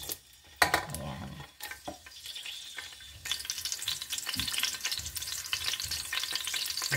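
Chopped garlic hits hot oil in a pan for chicken tinola, a few stirring clinks and scrapes at first, then a steady, close sizzle that swells and holds to the end; no voices.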